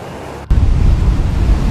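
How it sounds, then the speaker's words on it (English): Waves lashing the shore in the eastern Philippines as Typhoon Hagupit approaches, a sudden loud surge into a heavy, continuous roaring wash of surf and wind. "waves beginning to lash the land as Typhoon Hagupit approaches, its full power still unfolding"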